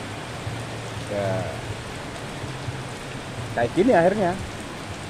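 Steady rain falls on a roadside at night, a dense even hiss throughout, with a voice speaking briefly over it near the end.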